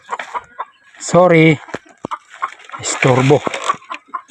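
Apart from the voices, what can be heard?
chicken clucking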